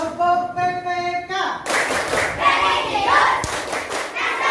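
A classroom of children performs the Tepuk PPK clapping routine, with rhythmic group claps and thumps filling the room after a brief opening of voices and tones, close and lively with chatter mixed in.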